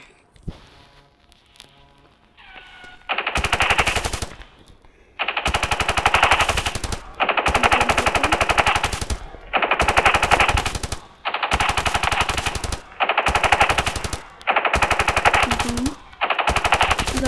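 Gunfire in Standoff 2 comes in long bursts of rapid automatic shots, about eight loud bursts separated by short pauses, with no talking.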